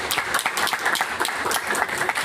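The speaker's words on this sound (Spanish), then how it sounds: "les voy a pedir un aplauso para ellos" A seminar audience applauds, a short burst of moderately loud, uneven clapping from a modest crowd with distinct individual claps, heard without talk.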